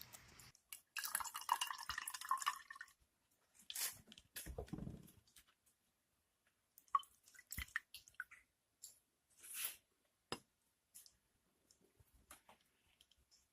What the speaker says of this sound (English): a little bit of water is what I'm adding in to lighten up the color